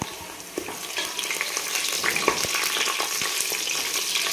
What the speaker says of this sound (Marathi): त्याला आपण तेलावर चांगलं परतून घ्यायचं